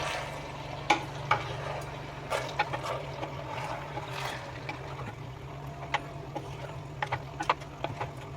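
Stirring cooked cabbage (patta gobhi) with vegetables and spices in a pot, a soft bubbling simmer under repeated scraping and clinking knocks of a spoon against the pot.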